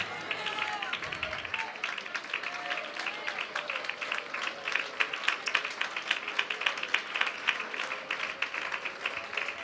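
A church congregation claps and applauds through a Malayalam Christian sermon, a dense, steady patter of many hands filling the space at moderate loudness, with a voice faintly audible underneath.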